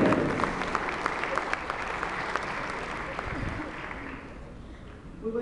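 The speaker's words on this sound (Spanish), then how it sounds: "Recibamos a la doctora con un fuerte aplauso para que inicie la conferencia magistral del día de hoy" An audience at a university keynote lecture applauds to welcome the speaker, a steady wash of clapping that slowly fades, with faint talk underneath.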